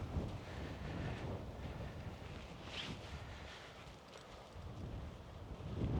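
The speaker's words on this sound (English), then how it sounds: "If it wasn't for the wind, this would be a perfect night." Strong night wind gusting up to 40 MPH buffets a truck camp, a steady, fairly quiet rushing roar that swells and dips slightly with no voices.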